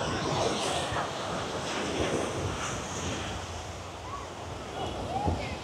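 Surf rolls onto busy Kuta Beach in Bali at sunset, a steady broad wash of waves mixed with gusty wind noise on the microphone and a faint murmur of the crowd.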